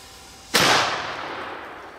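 One sharp blast from a small black powder firecracker bursts out and trails off in a fading hiss over a quiet background.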